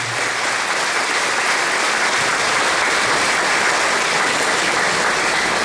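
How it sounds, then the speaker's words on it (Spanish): Steady, dense applause from a gathering of elderly club members at a local municipal celebration, loud and sustained throughout with no voices over it. "pido por favor un fuerte aplauso por habernos cedido el lugar"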